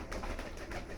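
Pigeons being fed indoors in a home loft coo softly and steadily, a low murmuring coo repeating several times, close by with faint fluttering texture and no talk.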